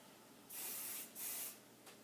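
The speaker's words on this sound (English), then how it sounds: "I'm going to spray from down below for a minute." Two close, hissing bursts from an aerosol hairspray can, each about half a second long, followed by a brief faint puff.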